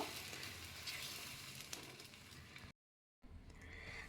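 Semolina chilla batter frying in a hot pan gives a steady, close sizzle and crackle that drops out briefly to silence before resuming.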